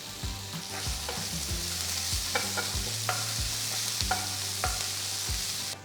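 Chopped onion, ginger and green chillies sizzle steadily in a pan while a spatula scrapes and stirs in repeated knocking strokes, close and fairly loud, with no talking.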